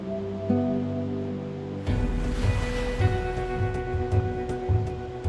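Ocean waves wash and break steadily along a shore where penguins swim, a continuous rushing surf with a deep, rumbling undertone and no voices.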